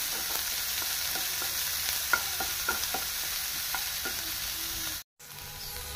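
Onion frying in a pan over low heat, a steady hiss of oil overlaid with light spatula taps and stirring clicks, broken by a brief cut near the end, with no talking.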